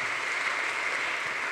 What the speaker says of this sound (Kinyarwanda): twongere Imana amashyi menshi cyane